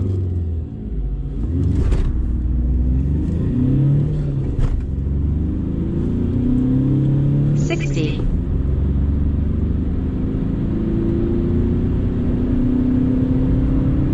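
A tuned VW Polo Bluemotion accelerates hard from 0 to 100 km/h, a loud steady engine drone and rumble rising through the gears with brief shift breaks, heard from inside the car.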